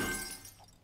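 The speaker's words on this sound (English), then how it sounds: "And break the glass." A short, bright crash of glass breaking in the survival game 7 Days To Die, a single burst that fades away within a second.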